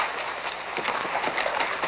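Horse hooves clip-clop in an uneven trotting rhythm over a dull, muffled background, moderately close.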